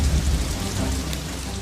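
Heavy rain pours steadily in a thunderstorm sound effect, with a dense hiss across the whole range and a deep rumble of thunder rolling underneath through the short stretch.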